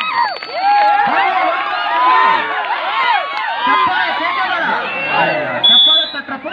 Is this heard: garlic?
no